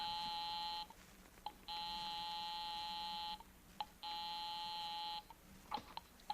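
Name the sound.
house phone being dialed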